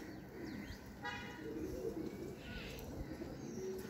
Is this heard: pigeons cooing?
yes